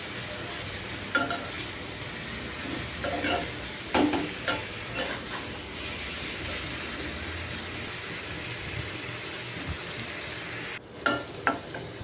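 Potato and bitter gourd fry stirred in an oily pan with plenty of onion, a steady sizzle broken by scattered scraping spatula strokes, close and continuous for most of the stretch, with a brief drop near the end before the stirring resumes.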